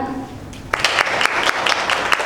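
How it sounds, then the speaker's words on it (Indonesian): Scattered clapping from a small group, uneven and close, with a voice audible at the start. "good ya, tepuk tangan"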